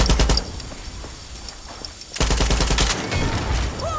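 Gunfire in the game Far Cry 6: a loud burst of rapid automatic shots, a short lull, then a second sustained volley of rapid fire, close and sharp.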